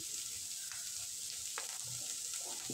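Sliced peas and thinly cut capsicum fry in a hot pan for a Bengali veg pulao, giving a steady close sizzle with a few soft stirring knocks.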